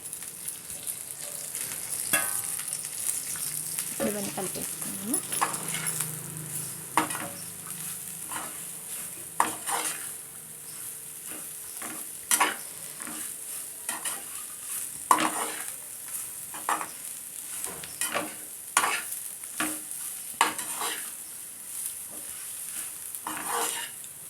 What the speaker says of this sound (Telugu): ఇప్పుడు మనం వేయించి పెట్టుకున్న దొండకాయలు వేసేద్దామండి